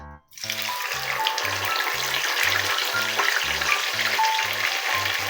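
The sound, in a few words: tilapia fish frying in hot oil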